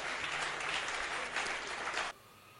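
Studio audience applause and cheering for the Lord on a Beninese Christian television program, a steady, dense clatter of clapping lasting about two seconds before cutting off abruptly into near silence.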